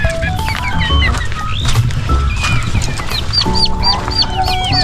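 Brooding backyard hens cluck and croon continuously at close range, with overlapping calls and some louder squawks among the other poultry, with no voices.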